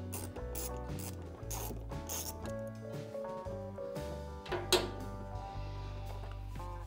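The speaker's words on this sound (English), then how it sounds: "remove the T15 bolt that's inside the fender liner on the C8 Corvette" A T15 bolt is removed from the fender liner of a C8 Corvette, with quiet repeated ratcheting clicks from the driver over a steady background hum and no talking.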